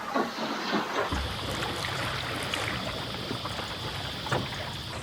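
A sailboat under way in dropping wind at about 3.5 knots, heard as a steady rush of wind and water washing along the hull, fairly loud and continuous, with no talk.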